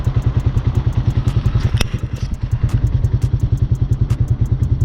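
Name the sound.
Hawk 250cc dual sport motorcycle riding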